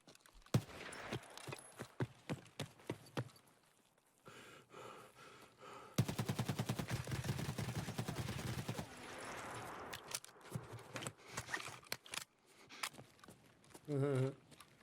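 Gunfire in the Escape from Tarkov shooter game, sharp shots in scattered bursts and then a dense rapid volley in the middle, with other game noises in between and a short tonal sound near the end.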